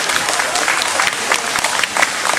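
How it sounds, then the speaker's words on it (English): An outdoor summer concert audience in Washington, Iowa claps loudly and continuously, a dense close wash of many hands. "Clap if you want to march."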